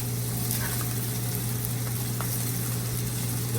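Fried rice sizzles steadily in a hot pan as it is folded for crispiness, a continuous even hiss with faint scraping under it and no talk.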